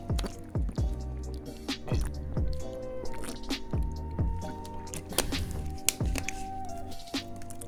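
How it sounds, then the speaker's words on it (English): Close, wet gulping and swallowing as someone drinks water, with rhythmic squishy pulses and drips repeating throughout, up close and fairly loud. "me making noise while drinking this water."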